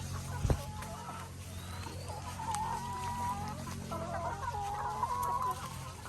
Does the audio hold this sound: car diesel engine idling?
no